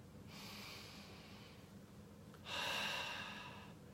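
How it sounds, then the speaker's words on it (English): Two slow, deep breaths, a long airy inhale followed after a pause by a louder, fuller breath, close and alone without talk, taken during a calm Christmas Eve relaxation moment. "Just breathe in at least 4 really deep breaths."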